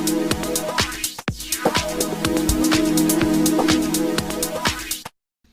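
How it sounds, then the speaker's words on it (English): A sweeping synth pad sample plays in Ableton, a dense sustained chord with a filter sweep rising and falling over a steady pulsing rhythm, loud and close, then cutting off abruptly near the end. "So a really kind of gorgeous sounding sweeping pad,"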